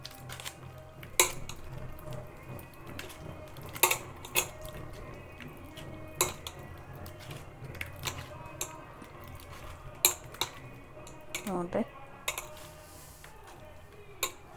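Butter is churned by hand in a pot without a mixer, giving irregular close knocks and clinks of the churning utensil against the vessel over a quiet background.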